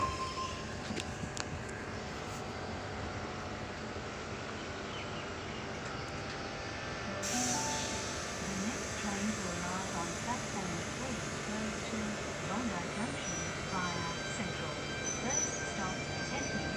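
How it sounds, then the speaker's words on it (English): A Cronulla service train, set T52, pulls away from platform 4 with a steady low rumble and sustained whining tones that swell a little partway through, continuous and fairly near. "Cronulla service departing platform 4"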